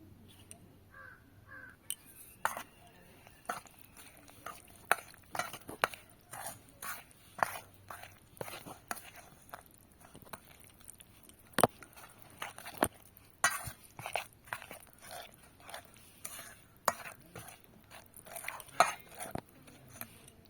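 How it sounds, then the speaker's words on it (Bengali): Cake batter being mixed with milk in a bowl, a utensil scraping and knocking in repeated irregular strokes, fairly faint and close, with no talk. "এবারে আমি দুধ দিয়ে দিলাম। দুধ দিয়ে দিয়েছি। তো এবারে আমি ভালো করে মাখিয়ে নেব।"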